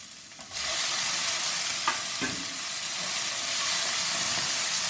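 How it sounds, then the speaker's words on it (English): Tomato pieces sizzling and frying in a hot pan for Tamil Nadu style veg sambar, a steady broadband hiss that swells louder after a moment, with a couple of faint stirring clinks, close and continuous. "Now add the tomato pieces."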